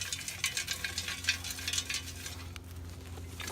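Dirt scraped back into place by hand over a coyote trap set on a trapline, a few close gritty scrapes and rustles outdoors with a low steady hum underneath.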